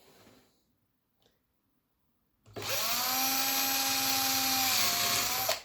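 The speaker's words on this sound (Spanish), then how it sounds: "ahí hemos hecho los dos taladros con la broca de 3 milímetros" A power drill with a 3 mm bit boring shallow holes: near silence with a faint knock, then a loud, high, steady whine starts abruptly and runs for about three seconds before stopping.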